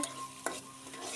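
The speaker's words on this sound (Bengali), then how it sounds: "পেঁয়াজ, কাঁচামরিচ, রসুন কুচি দিয়ে লাল লাল করে ভেজে নিব।" Chopped onion, green chilli and garlic frying in oil in a wok, with a short, close burst of stirring over a soft sizzle.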